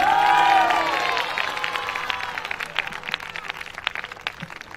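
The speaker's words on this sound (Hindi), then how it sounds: "जोर से ताली बजाइए प्रभु के लिए।" An audience at a Christian healing gathering in Bhilai breaks into applause, dense clapping that fades gradually, with a voice and a tonal sweep at the start.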